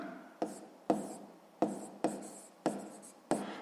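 Handwriting on paper during a sixth-grade maths exercise, six short scratchy strokes spaced about half a second apart, each fading quickly, quiet and close with no talk.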